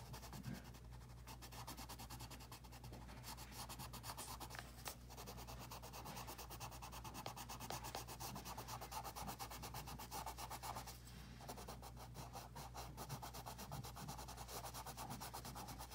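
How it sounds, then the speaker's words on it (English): Faint, close, rhythmic rubbing as colored pencil is burnished onto paper, with soft repeated strokes running steadily throughout. "So I'm just continuing to burnish that section right there."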